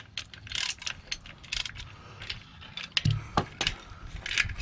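Ratchet clicking in quick bursts while unscrewing long starter motor bolts, close and crisp, with metallic clatter between the strokes and no voices.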